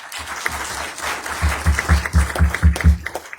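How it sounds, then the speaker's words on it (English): A crowd claps steadily at a county commissioners' meeting, a full round of applause building and continuing for a few seconds. "Let's give a round of applause for that."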